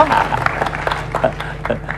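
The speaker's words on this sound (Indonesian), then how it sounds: "Kita beri tepuk tangan yang meriah" Applause from a studio audience welcoming a guest on a televised community programme, a brief patter of clapping mixed with a speaking voice.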